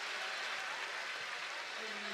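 Home crowd in an arena applauding as a basketball player leaves the court during an Italian LBA playoff game, Reyer Venezia against Reggio Emilia; dense, steady clapping and cheering fills the space.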